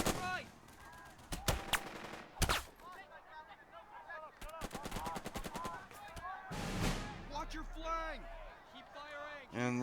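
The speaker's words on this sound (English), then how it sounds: "suppress the Italian machine guns" Sharp bursts of gunfire from the strategy video game Burden of Command, with sustained rapid machine gun volleys and single cracks scattered across the scene, mixed with game music and effects.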